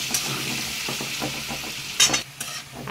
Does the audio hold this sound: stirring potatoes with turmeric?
yes